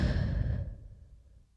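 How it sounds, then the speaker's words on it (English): A single long, fairly close exhale, like a slow sigh during a guided sit-still breathing exercise, fades away over about a second with no talk. "I want you to breathe in"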